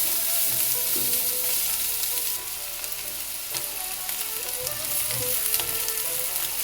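Leftover rice stir-fried in a pan with vegetables and scrambled egg gives a steady, close sizzle with scraping and tossing sounds from stirring throughout, no voices.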